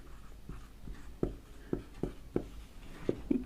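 Chalk or marker strokes on a classroom board during a Hindi grammar lesson, a series of short taps and scrapes coming every half second or so, close and fairly faint against a quiet room.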